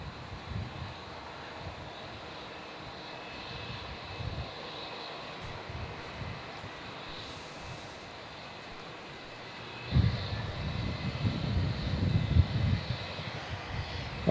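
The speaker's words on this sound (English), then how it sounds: "A380." An Airbus A380 at Melbourne Airport, a distant low jet rumble that stays steady and then swells louder and rougher in the final seconds as the big airliner nears.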